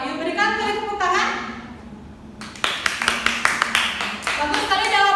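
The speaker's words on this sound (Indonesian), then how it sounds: "Ayo berikan tepuk tangan." A voice speaks at first, then a small group of students gives a short round of clapping after a classroom answer. The claps come as a quick, uneven run of sharp slaps, close and fairly loud, before the voice returns.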